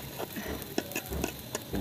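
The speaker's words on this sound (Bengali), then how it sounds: "ঘি দিয়ে চালটা পুরো ভাজবো" Rice grains frying in ghee in a cooking pot, a soft continuous sizzle with light stirring scrapes and small ticks, close and fairly quiet.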